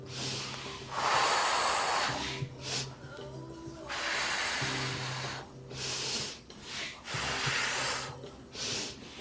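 Heavy, effortful breaths during an abs and glutes workout, with repeated loud exhales and sharp snorting inhales in an uneven rhythm, close to the ear.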